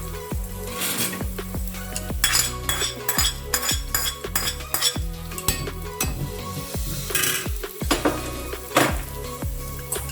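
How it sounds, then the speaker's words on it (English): Onion goes into a hot pan for a chicken curry with rice and sizzles steadily, while a utensil scrapes and clinks against the pan in repeated stirring strokes. "So I'll pump in my onion for my curry."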